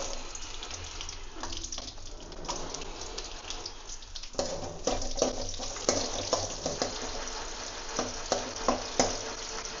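Shallots and curry leaves sautéed in a pan for bottle gourd kara kuzhambu, a bubbling crackle that sounds almost like running water, growing louder midway with sharp spoon taps toward the end, no voices.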